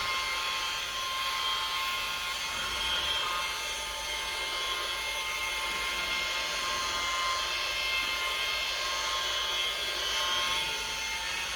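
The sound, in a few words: polisher with cutting pad polishing faded headlight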